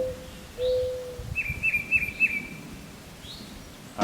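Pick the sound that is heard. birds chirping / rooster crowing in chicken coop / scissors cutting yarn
birds chirping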